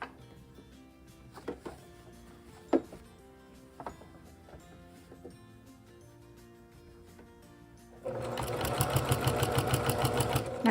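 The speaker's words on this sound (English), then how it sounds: "So just manipulate the fabric to be able to sew in a straight line." A sewing machine stitches a straight seam through quilt fabric, its rapid, steady needle chatter starting abruptly near the end and running loud and continuous after scattered light handling knocks.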